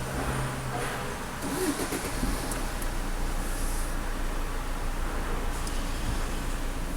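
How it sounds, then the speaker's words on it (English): A car engine starts on the enclosed car deck of a ferry, a low idling rumble with other vehicles starting nearby, steady and moderately loud against the echoing deck hum. "I'll start my engine"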